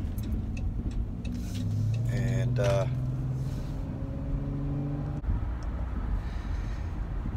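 Road traffic heard from inside a vehicle, a steady engine and tire rumble with passing cars and tonal horn-like swells in the middle, while a person talks.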